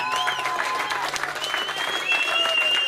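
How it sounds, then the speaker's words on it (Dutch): A crowd at a charity half marathon event applauds a runner, steady clapping mixed with cheering and whistles, with voices and outdoor bustle underneath throughout. "Mag ik daar sowieso eerst even een hartelijk applaus voor?"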